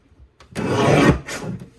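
Gray cardstock for a card kit is trimmed to size: a short, close scraping rasp of the blade through the sheet, then a second briefer stroke, with no talking.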